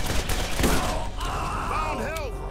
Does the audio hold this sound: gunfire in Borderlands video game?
yes